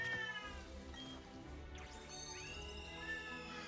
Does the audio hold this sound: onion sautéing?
no